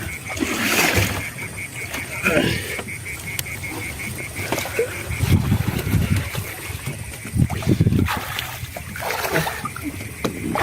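People are swimming and splashing through water, sloshing and paddling close by in uneven bursts. Voices talk throughout, partly over the water sounds.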